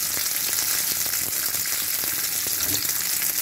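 Onions fry in a pan, browning slightly, with a dense, steady, loud sizzle close up. A few faint clicks and stirring taps come through the hiss, and no one speaks.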